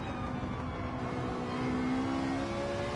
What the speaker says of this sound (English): how great does that Ferrari sound?